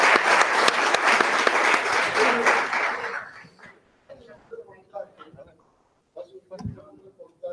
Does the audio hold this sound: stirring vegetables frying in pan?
no